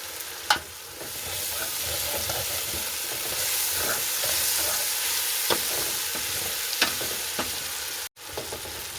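Salted vegetables sautéing in a pan, a continuous hissing sizzle with occasional scrapes and taps of a stirring spoon, near and steady, broken by a brief dropout near the end, no talking.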